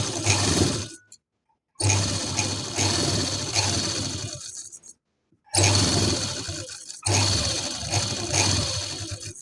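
A sewing machine stitches pleats on a kurti in several bursts of steady, loud mechanical whirring, stopping briefly between runs.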